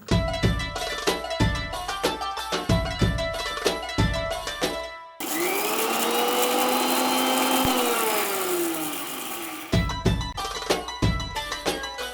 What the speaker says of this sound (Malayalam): ചെമ്മീൻ ചമ്മന്തി അരച്ചോണ്ടിരുന്നപ്പോ തന്നെ മിക്സിക്കകത്ത്